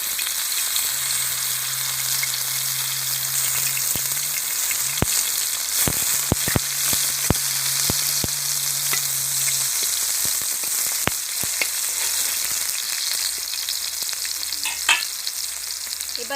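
Brinjal frying in a pan gives a steady bright sizzle throughout, with occasional sharp clicks and scrapes from stirring and a low hum underneath.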